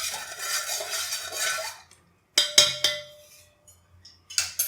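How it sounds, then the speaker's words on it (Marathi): A spoon stirs salt into water in a metal pot for dahi vada, first a swirling scrape, then a series of sharp metallic clinks and taps against the pot's side, close and distinct. "आणि हे पाणी चांगलं मिक्स करून घेऊया। हे मीठ या पाण्यात"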